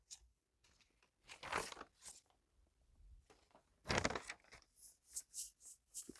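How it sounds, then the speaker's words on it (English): Sheets of copy paper rustle and crinkle as they are grabbed and handled close by, in irregular bursts with two louder crumpling swells and quieter shuffles between. "Just grabbing papers that are over to the side just to do that."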